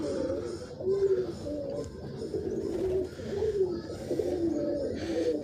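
A flock of pigeons coos steadily after rain, some inside a coop and others roaming outside, their low throaty calls overlapping in repeated rolling phrases, fairly close and moderately loud.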